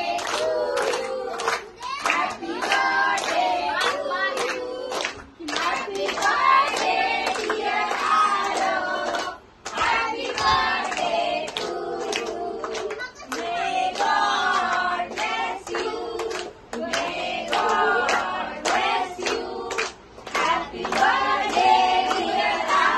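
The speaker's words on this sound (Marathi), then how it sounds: "आता तुम्ही सगळ्यांनी टाळ्या वाजवा." Children at an 8th birthday party clapping their hands in bursts, mixed with lively chatter and calls from kids and adults throughout, pausing briefly a few times.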